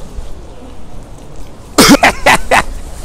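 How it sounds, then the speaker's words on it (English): A person coughs in a quick burst of about four loud, close, harsh coughs after a quiet moment, during a coronavirus-themed hand-shaking prank. "Apparently you coughed on your hand."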